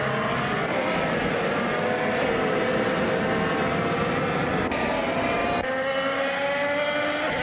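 Honda IndyCar race car engines roar steadily and loudly throughout, a sustained high-revving drone with shifting pitch as cars pass, with no talk.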